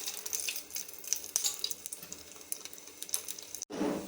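A veg roll fries in hot oil with a steady, faint crackling sizzle, punctuated by small pops and a brief clatter near the end, with no talk.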